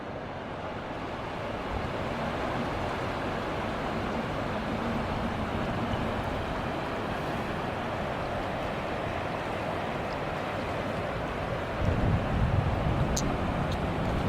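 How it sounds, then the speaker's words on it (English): Mississippi River floodwater flowing past close by, a steady broad rushing wash that holds evenly throughout, with a slightly louder gust of wind noise near the end. "Usually when you stand this close to the river, you can't really hear the water flowing by, but you really can."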